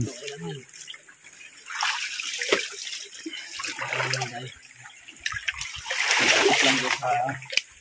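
Rushing, splashing stream water in Indang, Cavite flows continuously nearby, swelling louder toward the end, with people talking over it.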